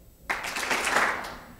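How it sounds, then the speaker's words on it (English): An audience bursts into applause after a pause of silence, a dense wash of many hands clapping that rises, holds and slowly fades, rather than two distinct claps. "clap twice."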